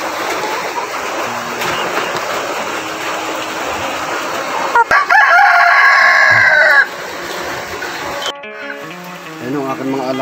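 Chickens clucking and a rooster crowing in a rainy forest setting, a loud crow in the middle over steady rain-like noise, followed by softer clucks.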